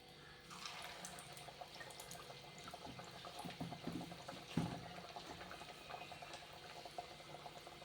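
Onion vadas being patted round and dropped into hot oil in a kadai, with a steady bubbling, watery sizzle throughout and a brief louder splash midway.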